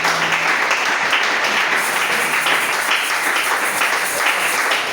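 A church congregation applauds during a sermon, giving steady, dense clapping and cheering that fills the room without pause and carries no clear speech.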